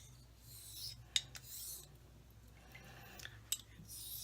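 A straight razor, a Genco Henry's X, honed on a Belgian blue coticule stone with slurry: gritty, raspy strokes come and go, with a couple of sharp clicks, close and quiet, and no voices.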